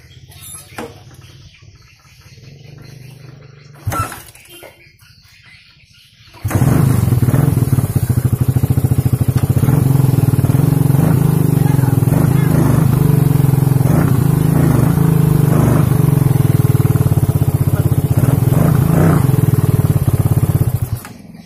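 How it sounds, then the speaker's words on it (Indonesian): A Suzuki Satria FU motorcycle with weak compression idles quietly, then its engine runs loud and close at low RPM with light revving, a steady rough drone throughout. "saya akan nyalakan kondisi RPM bawah, tidak saya bawa jalan, cuman lihat antara gas dengan koplingnya ya"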